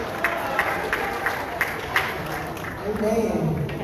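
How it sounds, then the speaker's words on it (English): A church congregation at a Memphis gospel singers' anniversary service claps in sharp, fairly regular hand claps, heard under continuous talking. "clap your hands and tell God thank you"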